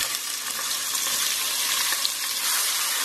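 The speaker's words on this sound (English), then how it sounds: "We're going to sauté our onions till they turn a nice deep golden brown." Onions sauté with cinnamon and cardamom in a pan for an Indian beef and potato curry, giving a steady, close, hissing sizzle that runs unbroken, with no one talking.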